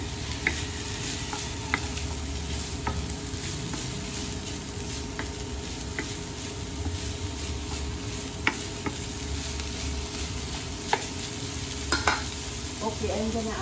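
Boiled, already-cooked pork frying in a pan for pancit canton guisado, a steady low sizzle with scattered clicks and scrapes of stirring throughout, moderately close, with no talk.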